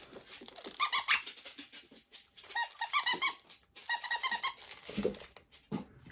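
Bursts of high, rubbery squeaks from a Star Wars squeeze toy come in three clusters, with a Scottish Terrier's short snuffs and low huffs close by near the end.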